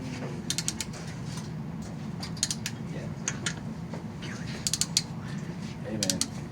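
A torque wrench being set to 50 foot-pounds while tightening engine bolts, with faint, sparse ratcheting and a few light clicks over a low background hum, with some quiet voice.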